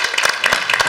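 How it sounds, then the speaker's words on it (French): Brief, loud burst of applause from the room at a municipal council installation meeting in Ploemeur, dense clapping with a few distinct claps standing out, lasting under a second. "on peut encore tous les applaudir"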